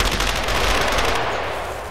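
Gunfire in the video game DayZ, a loud, dense burst of rapid shots that fills the first second and then trails off into a fading rumble.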